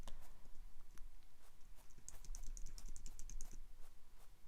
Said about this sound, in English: he's got his little footsteps